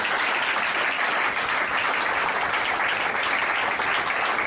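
A church congregation applauding the Lord during a healing service, dense sustained clapping from many hands filling the room, loud and steady throughout.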